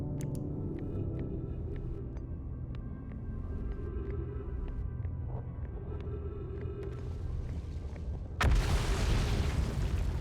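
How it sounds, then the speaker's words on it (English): A small explosion in the space exploration game Outer Wilds lands as a sudden loud broadband burst near the end, after a steady low engine-like rumble with faint clicks. "Just a little explosion."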